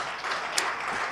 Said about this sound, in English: let's stand and give that resounding hand of applause as she comes.